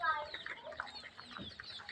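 Native Bangladeshi chickens cluck softly in short, scattered notes, faint and close, with light background noise and no talking.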